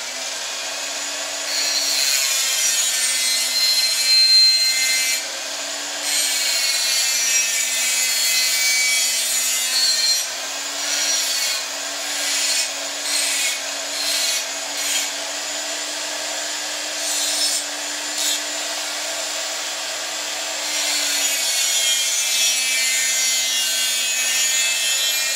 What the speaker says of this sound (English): I take my Dremel and I'll add some glue grooves, or grooves to grab the for the epoxy to grab to